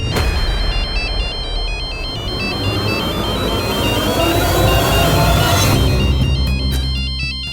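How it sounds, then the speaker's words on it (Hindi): A phone ringtone chirps in a repeating electronic pattern, loud and close, over a busy background of music and noise. "खुदा के लिए फोन उठाइए"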